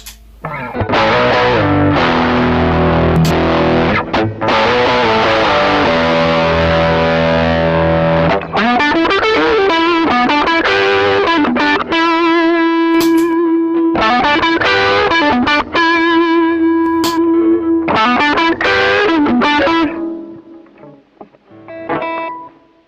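Electric guitar overdriven by a Tube Screamer pedal, playing chords and single-note lines with a warm, compressed distortion, loud and continuous, fading out at the end.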